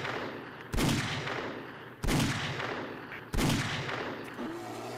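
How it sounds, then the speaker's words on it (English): A .44 Magnum revolver fires three loud, sharp shots in the 7 Days to Die video game, spaced about a second and a half apart, each with a short ringing tail, followed by a fainter thud. "Let's see how the 44 Magnum does."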